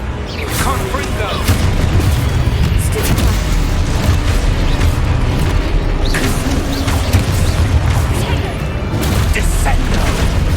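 Confringo fire spell blasts in the Hogwarts Legacy video game, loud repeated booming bursts and crackling impacts over a dense battle rumble, with a voice shouting spell names.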